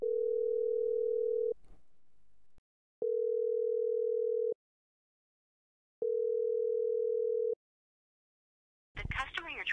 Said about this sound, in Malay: Lalu nombor telefon didial.